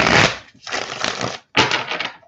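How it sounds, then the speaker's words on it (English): A deck of tarot cards is shuffled close up in three quick, crisp riffling bursts with short pauses between them. "I'm going to go ahead and give these cards a little bit more of a shuffle and get 3 more cards out."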